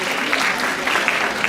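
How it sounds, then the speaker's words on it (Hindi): Audience applause at the WHT NOW Conclave 2026 in Mumbai: a brief, dense burst of many hands clapping steadily throughout, with no clear talk. "Gen Alpha के लिए ताली बजाओ please everyone."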